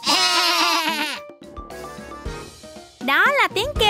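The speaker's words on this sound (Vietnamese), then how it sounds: "Đó là tiếng kêu của bạn cừu với bộ lông xù." A sheep bleats loudly with a wavering, quavering tone, then quieter sounds, then a second shaky bleat close by.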